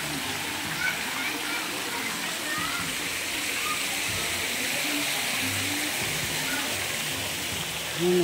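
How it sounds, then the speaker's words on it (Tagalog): Water flows steadily out of a turtle-shaped fountain at a resort in Antipolo, Rizal, making a constant rushing splash that lasts the whole stretch, with faint voices in the background. "May lumalabas na tubig."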